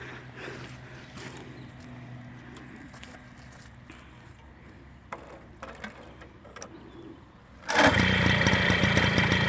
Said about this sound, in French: Ça démarre au quart de tour. Encore une belle machine.